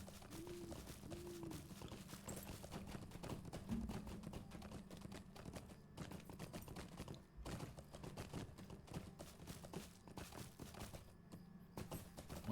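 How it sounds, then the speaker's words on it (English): Horse hooves clip-clopping steadily during a long ride in the LotRO video game, a continuous rhythmic patter of light beats at moderate distance, fairly quiet throughout. "I have a long horse ride ahead of me."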